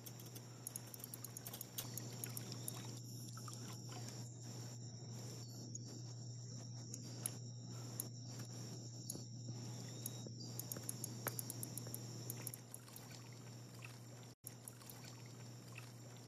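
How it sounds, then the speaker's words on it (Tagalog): Water poured over hands for washing in a Filipino home, a soft continuous trickle at close range under a steady low hum, with faint insect-like chirping in the background and no talk. "Maupo ka rito, hugasan ko ang kamay mo."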